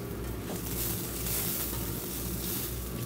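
Onions browning in a hot pan give off a steady, dense sizzle that stays loud and even throughout, with no voices over it.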